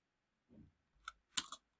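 A computer keyboard ticks softly in a quiet room: one muffled tap, then a quick cluster of sharper clicks as a short word is typed.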